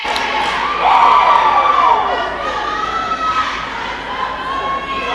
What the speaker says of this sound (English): This crowd really getting pumped up again.